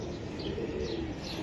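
Racing pigeon cooing at close range, a steady low murmuring coo running continuously through a short stretch with no talk.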